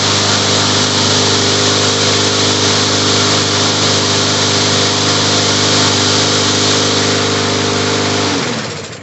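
Briggs & Stratton 7.25 engine on a Craftsman M230 push mower running at a steady loud drone after a test start, then dropping off as it stops near the end.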